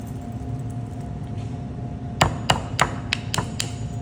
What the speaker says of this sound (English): using a rubber mallet, I'm going to, or a hammer,